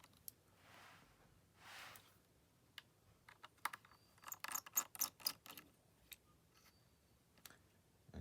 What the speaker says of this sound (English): we'll take off the top 2 screws.